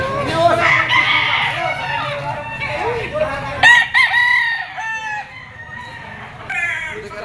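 Roosters crow loudly and close at a chicken auction market in Lipa, with dark-legged and white-legged birds for sale. The long rising calls overlap one another, with clucking and a voice in the background.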